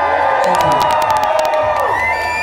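A large crowd at the Little Orchard Cider Festival 2017 cheers and whoops loudly for a busker's band, a dense sustained roar of shouts and whistles.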